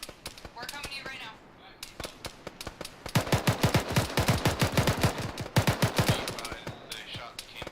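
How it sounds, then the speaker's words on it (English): Gunfire in the military game Arma 3 near a construction site: scattered single shots build into rapid, sharp volleys of cracks fired close by, with a voice speaking at the start. "The shot came from the construction site."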